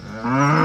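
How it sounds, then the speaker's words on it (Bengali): A cow gives a single short, loud, close moo that rises in pitch as it swells, heard alone. "গরু বাছুর দাঁড়িয়ে আছে"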